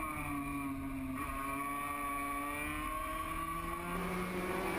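MotoGP motorcycles racing downhill at a circuit, a continuous high-pitched engine scream with shifting revs, loud and close throughout.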